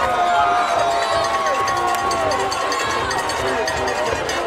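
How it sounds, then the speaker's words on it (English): Crowd at a high school state playoff football game, Zachary at East Ascension, roars and cheers steadily with dense babble and shouts, loud and sustained throughout, with an announcer-like voice partly under it. "The crowd's going crazy."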